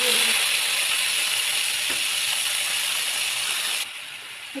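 Chopped chicken frying in hot oil, a bright continuous sizzle that drops a little in level near the end, with a faint tap of a utensil.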